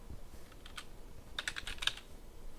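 Quiet typing on a computer keyboard, a scattering of soft key clicks with a quicker flurry of taps in the middle, close up and without talking.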